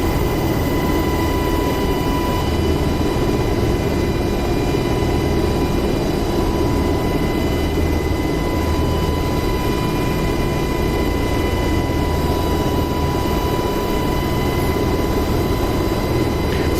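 A military helicopter flies in the DCS World simulator, its engine and rotor making a loud, constant, droning whine with steady tonal hums that hold unchanged throughout.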